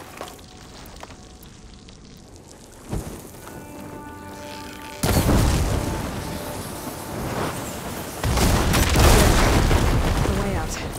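Blaze barrels explode in the video game Horizon Forbidden West, with a deep boom followed by a sustained roaring, crackling burst of fire and rumble, loud and dense.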